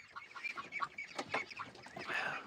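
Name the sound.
ducks and chickens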